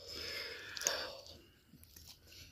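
Close, quiet chewing of a crunchy little pastry pie, with a few crisp bites and soft crunches in a kitchen before it settles into faint mouth sounds.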